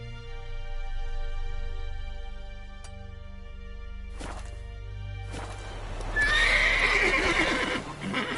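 Roach, the horse from The Witcher 3, gives a loud, close neigh near the end after quiet hoof thuds and a couple of sharp knocks, over a low steady background drone.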